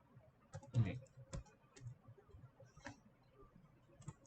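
Keys tap on a computer keyboard while Python code is typed, giving sparse, irregular clicks that are quiet and close, with occasional slightly louder strokes and no talking.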